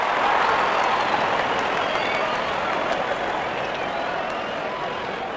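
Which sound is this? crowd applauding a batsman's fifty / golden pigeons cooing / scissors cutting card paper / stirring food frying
crowd applauding a batsman's fifty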